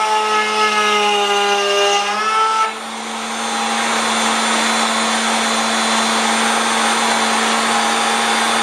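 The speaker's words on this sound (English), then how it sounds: "my plan is to make a channel on each side of a piece of wood." Power tool, likely a router, cutting a channel along the side of a wooden board for a candy cane countdown woodworking project, starting with a rising whine and then holding a steady loud, continuous high-pitched drone.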